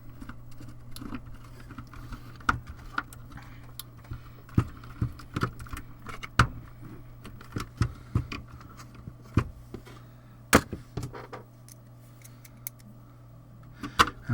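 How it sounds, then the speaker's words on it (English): Small metal ground screws are dropped and fitted back into a multi-channel audio interface during recapping, giving scattered sharp metallic clicks and taps at an uneven pace over a steady low hum. "now I get to put all these lovely ground screws back in"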